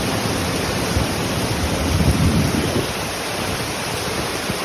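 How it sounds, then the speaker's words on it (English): Heavy rain pours down in Melbourne, a dense unbroken hiss with a low rumbling swell in the middle, loud and close, with no voices. "Now it's pouring."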